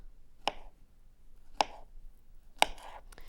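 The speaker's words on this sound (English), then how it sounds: "We'll start off by cutting a banana into 4 pieces" A knife cuts a banana into pieces on a board, giving three sharp, separate taps about a second apart, close and quiet, with no talk.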